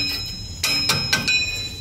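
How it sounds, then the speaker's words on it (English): Light hammer tapping a metal emergency-brake part on a Ford F150, four sharp ringing metallic taps spaced about a quarter second apart, close and clear with no talking. "then you can just take a light hammer and tap it"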